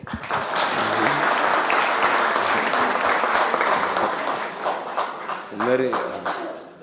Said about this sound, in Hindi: तालियां बजा दीजिएगा दोनों